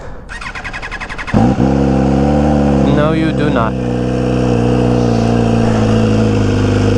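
An MV Agusta Rush motorcycle with a stock project exhaust cranks and fires up, then settles into a loud, steady idle with a brief blip of revs, while a voice speaks briefly just before it starts.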